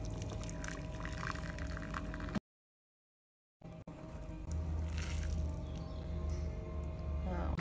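Chili oil and vinegar poured into a bowl of snail noodles, a soft liquid pour close by, broken by a brief silent gap before the pouring resumes.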